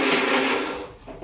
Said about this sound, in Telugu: ఆ మిక్సీ సౌండ్ వస్తుంది